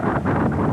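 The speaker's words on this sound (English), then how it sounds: "Getting very windy." Strong wind gusts during a blizzard buffet the microphone in loud, rushing surges that rise and fall over a second.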